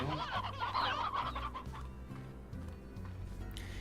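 Hens cluck steadily in the farming game Slime Rancher, a busy run of close, overlapping fowl calls over a constant low background hum.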